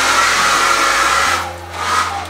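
Blow dryer running with a loud, steady airy whir that dips partway through and then swells again, heard alone without talk.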